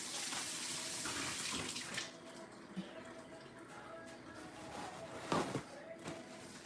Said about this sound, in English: Let me wash my hands to turn it off.